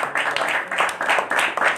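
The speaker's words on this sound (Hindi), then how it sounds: "इस बात के लिए जोरदार तालियां बजाएंगे" A congregation claps loudly at an overnight prayer meeting, a brief dense burst of hand claps in uneven surges, with no clear talk over it.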